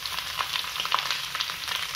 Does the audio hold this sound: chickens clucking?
no